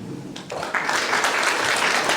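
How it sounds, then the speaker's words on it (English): A local supervisors' debate audience applauds, the clapping thin at first and then swelling to a steady, full round that carries through to the end. "We're going to keep the applause to a minimum."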